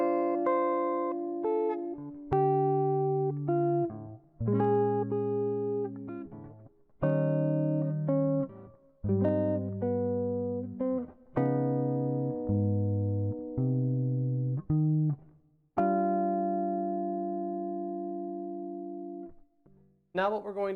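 Solo fingerstyle guitar plays the chord changes of a song. Plucked chords ring and decay one after another at a slow, rubato pace, close and clear, with a long held chord near the end.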